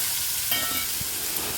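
Chopped raw mango hits a pan of hot oil tempered with mustard seeds and dried red chillies, and a sudden burst of sizzling follows that keeps hissing steadily, close and loud.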